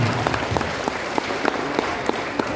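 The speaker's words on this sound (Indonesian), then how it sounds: "Oke, tepuk tangan dulu buat kita semuanya." An audience at a parenting talk on teen stress claps together in a dense, steady round of applause, with sharp individual claps standing out at a fairly regular pulse.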